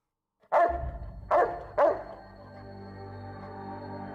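Dogs barking in the video game Fallout: New Vegas, three sharp, close barks in quick succession followed by a low lingering ambient hum, with no talking.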